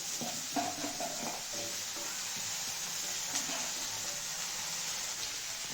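Okra pieces frying in a pan beside eggs, a quiet continuous sizzle with light, sparse stirring clicks near the start, close and low in level, no talking.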